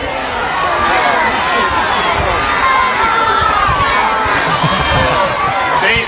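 An outdoor crowd of adults and children shouts all at once at a Roman gladiator demonstration in a park, a loud, dense, continuous jumble of overlapping voices.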